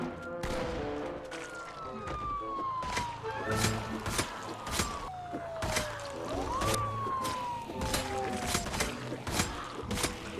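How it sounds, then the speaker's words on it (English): In the zombie survival game Project Zomboid, a hotwired vehicle's siren wails with rising and falling sweeps, fairly faint under a dense run of sharp gunshot-like impacts and clatter from clearing zombies around town. "I hotwire another vehicle with a siren, then drive around town clearing the remnants"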